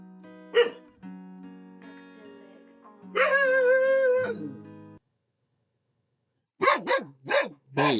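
Dog barking at a person riding a bicycle, a few loud, sharp barks near the end after a stretch of tonal noise and silence.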